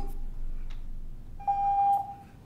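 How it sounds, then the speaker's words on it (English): A single steady electronic beep sounds from a phone during a county board meeting for about half a second, clear and fairly close over a low background rumble. "I hear you beeping."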